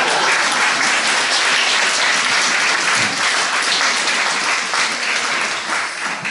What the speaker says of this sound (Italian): Abbiamo chiuso questa fase un po' colorita con un applauso spontaneo